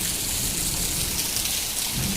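Heavy rain pours down steadily in a village, a dense unbroken hiss with no gaps and no voices.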